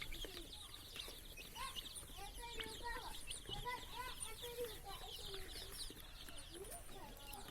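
Local chicken chicks, about 150 warming in sunlight on a small farm, chirp and peep constantly in a dense overlapping chorus, with occasional clucks, recorded close but fairly quiet.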